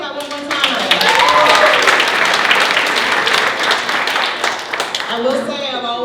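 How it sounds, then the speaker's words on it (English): An audience applauds at a small business awards ceremony in Warren County, North Carolina: a full round of clapping swells and then fades, with a voice talking briefly at the start and again as it dies down. "Let's give her a hand clap one more time."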